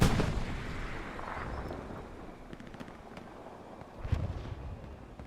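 Rocket fire and explosions boom through a Hell Let Loose match as a Panzer IV tank is hit, a loud blast at the start, rumbling distant fire and wind, then another heavy thump near the end.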